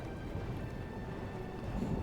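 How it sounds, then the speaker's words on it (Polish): Heavy downpour during a battle in a strategy game, a dense, continuous hiss of rain with low rumbling underneath, steady and moderately loud, no voices. "Deszcz ulewny leje."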